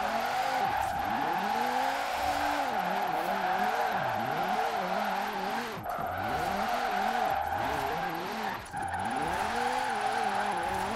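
A Formula Drift RTR Mustang drifts hard in Forza Horizon 4, its engine rising and falling in repeated revving sweeps over a steady, loud tire squeal, with brief dips as it shifts.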